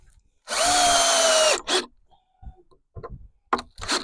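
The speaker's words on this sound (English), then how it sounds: "Put a couple more screws in it." Power drill driving screws into a wooden horizontal beehive, one sustained loud whir of about a second, followed by shorter bursts and scraping knocks of wood being handled.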